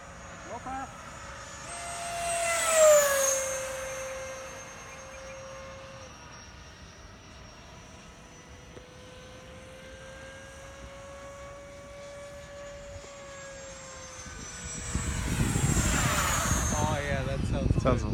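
Freewing 90mm F-4 RC jets flying in formation, their ducted-fan whine rising into a loud flyby pass, easing into a distant steady tone, then roaring past again near the end.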